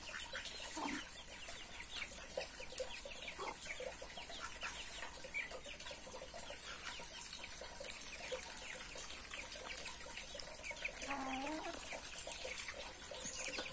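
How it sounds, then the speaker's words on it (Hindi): Chickens cluck faintly now and then over a steady background of running water and noise, with no talking. "सब गिरा के देती है ये मुर्गे लोग।"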